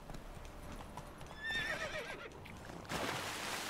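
In The Witcher 3 video game, a horse's hooves clip-clop at a gallop and it gives a high whinny partway through, fairly quiet over faint background ambience.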